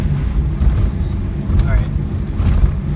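A manual car's engine shifting into third gear, a low rumbling drone heard from the cabin under a driver's talk, with slight surges as the revs change.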